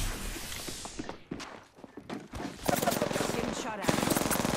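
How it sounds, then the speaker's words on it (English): Automatic weapon fire in the shooter game Apex Legends, on Kings Canyon, with sharp bursts and rapid rattling volleys that grow louder and denser, mixed with thumps and footstep-like impacts. "Getting shot at."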